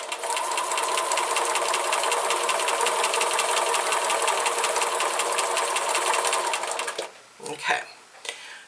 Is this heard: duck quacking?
no